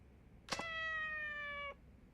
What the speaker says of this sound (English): Oh god, that cat is tweaking.